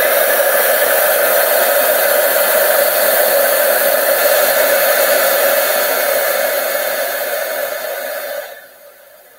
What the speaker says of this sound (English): now we're going to use our heat tool to heat this up.